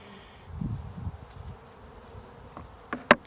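Honey bees hum softly inside a small nuc hive holding two frames, a low fluctuating buzz with a few sharp handling knocks near the end.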